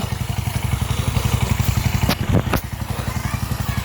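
A water pump machine runs steadily beside a pond, drawing water up through a pipe to fill a boat, its rhythmic mid-pitched engine chugging continuously with a couple of brief clatters near the end.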